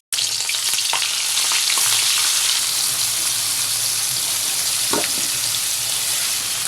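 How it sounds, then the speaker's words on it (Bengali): Small puti fish fry in hot oil with a loud, dense, unbroken crackling sizzle, close to the pan, broken by a couple of faint clinks, with no voices. "এই তেলে আমি একে একে মাছগুলো ছেড়ে দেবো।"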